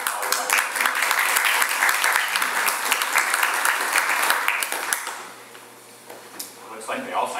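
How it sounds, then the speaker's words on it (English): An audience clapping at a presentation, a dense, loud round of applause that thins and fades after several seconds, with a few scattered claps and some talk at the tail. "Looks like they all signed up for clapping."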